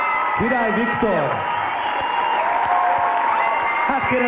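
Studio audience applause on a TV show, light scattered clapping and a few whoops heard faintly under a voice talking over it.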